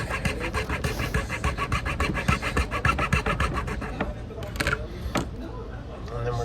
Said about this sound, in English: We're also going to saw off the little arm of the boosters.